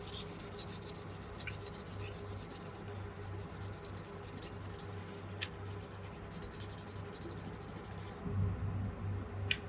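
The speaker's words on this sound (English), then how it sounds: "Now we will move towards the 2000 grit. All right, and we will just lightly sand it." Steady, rhythmic rubbing of 2000-grit sandpaper lightly sanding a painted leather edge, soft back-and-forth strokes close up, continuing for several seconds before stopping abruptly.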